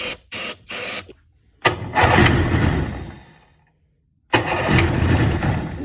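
An abandoned jet ski's engine cranks in short stuttering bursts, then catches and runs loudly after brake cleaner was put in the carburetor, dies away, and fires up again, close and without talking.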